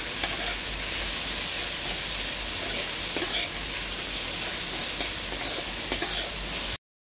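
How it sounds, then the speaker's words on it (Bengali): Onion and vegetables fry steadily in a hot pan for street-style egg chowmein, a loud continuous sizzle with stirring scrapes running throughout before stopping abruptly. "এর মধ্যে আমরা এবার আমাদের কেটে রাখা পেঁয়াজটা অ্যাড করছি ভাজার জন্য।"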